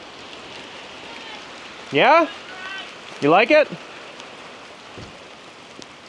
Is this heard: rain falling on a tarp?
yes